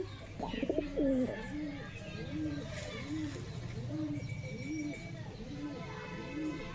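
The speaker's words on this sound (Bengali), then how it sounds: "দুটোই দেশি গিরিবাজ কবুতর লর মাদি দেখুন ভালো করে শখ করুন" A pair of native Giribaz pigeons, a male and a female, coo close by in a steady repeating rhythm of soft, low, rolling calls, with some faint background noise.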